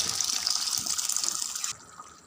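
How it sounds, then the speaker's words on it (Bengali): Broth poured into a pot of curry cooked with bottle gourd, tomato and pasta: a close, steady liquid gush lasting under two seconds, then it stops abruptly. "এটার মধ্যে একটু ঝোল দিতে হবে"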